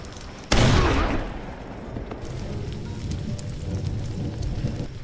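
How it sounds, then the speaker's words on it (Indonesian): A film shootout delivers one loud, sharp gunshot that cracks through a steady hiss like rain and fades into a long rumbling tail. "dan terjadilah aksi tembak-tembakan"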